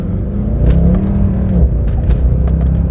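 A Mercedes C63 AMG Black Series engine revs loudly and close up as traction control cuts in, a deep, rough roar with a rising note that stutters and holds under load.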